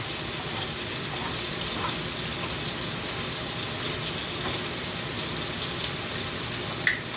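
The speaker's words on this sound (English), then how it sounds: "You don't need the water from the tuna, you know, so I pour it off." Water being poured off canned tuna into a sink, a steady splashing trickle that runs evenly throughout with no talk.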